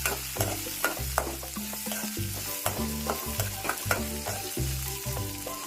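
Onion and dried red chillies frying in oil for pirandai chutney, with a continuous sizzle and regular scraping strokes of a spoon stirring the pan, close and clear.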